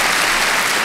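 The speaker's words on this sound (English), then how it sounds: "Let's give him another round of applause" An audience at a live 1962 blues concert applauds, a dense, loud wash of clapping that fills the whole brief moment with no talk.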